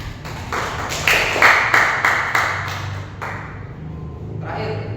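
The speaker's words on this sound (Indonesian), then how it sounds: "Boleh kita kasih tepuk tangan untuk kita semua." A small group claps in a classroom during a micro-teaching lesson, a run of sharp, fairly close hand claps lasting a few seconds before tapering into a few scattered claps and faint room noise.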